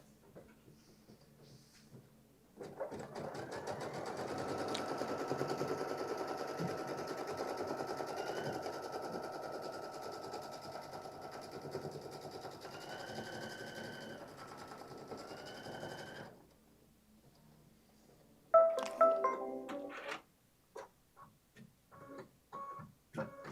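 An embroidery machine runs steadily for about fourteen seconds, stitching placement lines onto fabric with a fast, even mechanical whir, then stops, followed by a few handling clicks and thumps nearby.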